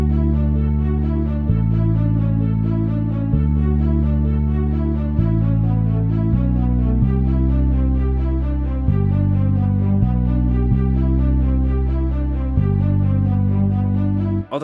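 Sustained chords from the chorus of a song, played as a clean, steady progression with each chord changing every second or two, loud and alone with no talk.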